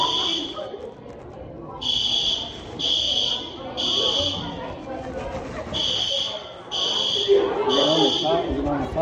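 A school fire alarm falsely activated sounds in repeated loud electronic buzzing bursts of about a second each, with short gaps, while people talk nearby underneath.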